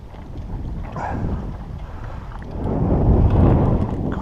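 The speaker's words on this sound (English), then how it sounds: "God, it's a bit breezy." Breezy wind buffeting a microphone at a lakeside fishing swim, a low rumbling roar that swells and gusts, growing heavier toward the end, with no voices.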